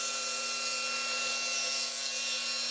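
Wood is trimmed on a table saw sled, giving a steady, faint whirring rasp of the blade through the stock that runs evenly from start to finish beneath a constant low hum.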